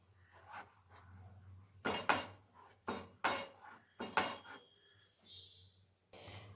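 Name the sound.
stirring milk in a pot for sandesh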